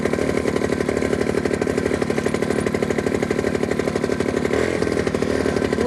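A DEFI 210 paramotor engine running at a steady idle, with a loud, close, continuous two-stroke buzz that holds a rapid even rhythm and changes tone only briefly near the end.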